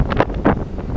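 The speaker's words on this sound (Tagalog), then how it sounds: "Kahit malakas ang hangin." Strong wind buffeting a microphone at a fishing spot, loud gusting rumbles in uneven bursts close to the mic, with no talk.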